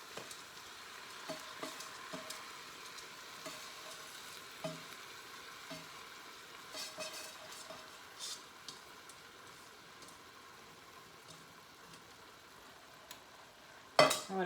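Washed rice is stirred into chicken in a sizzling pan, with soft frying hiss under intermittent scraping stirs and a louder clatter at the end.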